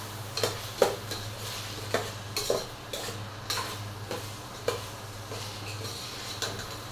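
Rice is stirred in a frying pan, a spoon scraping and tapping the metal in short repeated strokes about every half second over a faint low sizzle, quiet and close.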